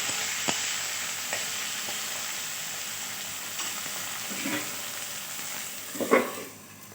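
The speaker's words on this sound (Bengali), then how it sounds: "এবার কেটে রাখা টমেটোটা দিয়ে দিলাম" Chopped tomatoes frying for a Bengali fish curry, a steady close sizzle with a few stirring scrapes and a louder clatter near the end before it quietens, no voices.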